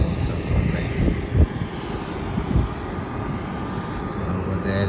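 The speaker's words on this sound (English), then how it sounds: "The Jetstar flight to Colombo is also taxiing now towards the north-south runway." A Jetstar airliner taxiing at Melbourne Airport toward the north-south runway gives a steady low engine rumble and whine, moderately distant, with a person talking over it.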